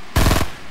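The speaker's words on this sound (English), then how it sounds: "That's a shotgun." A single loud shotgun blast in Fortnite Mobile, close and punchy with a short booming tail that fades out quickly, with no voices.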